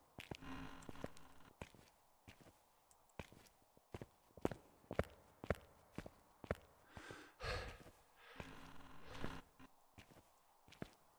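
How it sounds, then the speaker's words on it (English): Footsteps in the horror game Phasmophobia, a steady series of distinct thuds spread across the whole stretch, with a few breathy sighs and gasps between them and no talk. "I hear footsteps."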